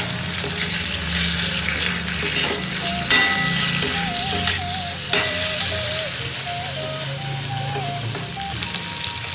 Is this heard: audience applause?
no